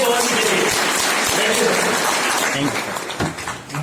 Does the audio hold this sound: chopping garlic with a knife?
no